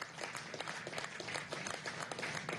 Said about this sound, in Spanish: desde aquí le damos un aplauso, comandante general del ejército, a la gobernadora,